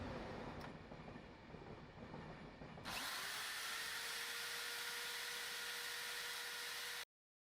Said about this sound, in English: drill 2 holes for the ports